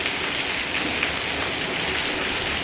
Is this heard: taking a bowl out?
no